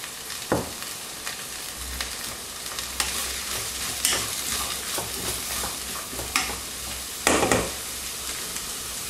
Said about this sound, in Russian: Пока овощи у нас обжариваются